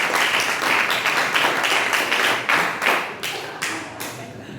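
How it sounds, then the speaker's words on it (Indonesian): Audience applauding after a school project presentation, dense continuous clapping from many hands, loud and close, slowly thinning toward the end. "tepuk tangan Pak Edi"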